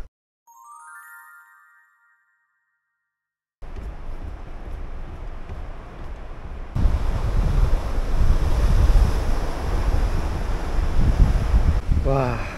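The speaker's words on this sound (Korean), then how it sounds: "이 경쾌한 파도 소리." Ocean waves break on the Busan coast, a steady wash of surf that swells louder partway through, with wind buffeting the microphone. It follows a brief melodic chime and a moment of silence.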